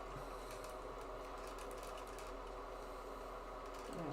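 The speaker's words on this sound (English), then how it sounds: "got those pieces all sewn up together" A sewing machine stitches fabric pieces together in a steady, continuous mechanical whir with a fine rapid rhythm, fairly quiet and uninterrupted, with no talking.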